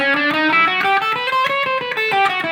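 Electric guitar with distortion plays a fast run mixing major and minor blues notes, a continuous stream of picked notes rising and falling, loud and alone.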